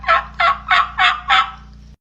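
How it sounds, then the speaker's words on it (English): A wild turkey gobbles five times in a steady, loud rhythm, each rattling call close and clear, ending abruptly with no talk over it. "They don't just gobble. They yelp too,"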